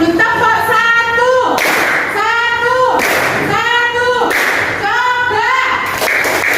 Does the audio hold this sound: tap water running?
no